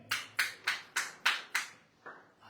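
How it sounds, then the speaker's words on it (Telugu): Seven sharp, separate hand claps, six in a steady rhythm and a softer one after a short pause, close and fairly quiet with no talking. "ఇంకా చప్పట్లు ఆపలేదు"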